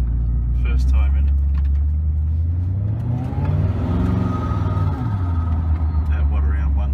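A Koenigsegg Regera pulls away at roughly one-third throttle at night, its low engine drone rising and falling smoothly as it accelerates, heard from inside with voices talking over it.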